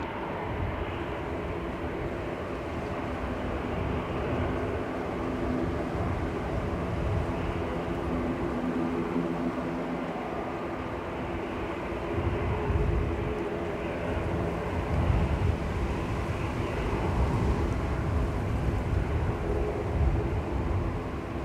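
Airliner on approach at Manchester Airport, a broad steady engine roar heard from a distance, continuous with slight swells in loudness and no talking.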